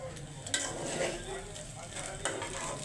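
Food fried and stirred in a pan, a soft continuous sizzle with spatula scrapes and a couple of light utensil knocks against the pan.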